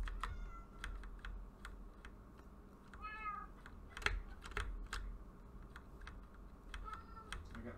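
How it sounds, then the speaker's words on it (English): A cat meows in a video game while taming a cat, a few short meows rising over rapid keyboard typing clicks and faint background game ambience. "Taming this cat."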